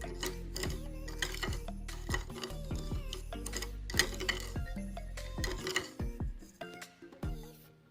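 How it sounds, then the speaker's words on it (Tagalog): A spoon scrapes and taps around a bowl while stirring a scrub of lemon juice, brown sugar and olive oil, giving a quick run of close, sharp clinks and gritty scrapes in irregular rhythm. "Haluin ng maigi."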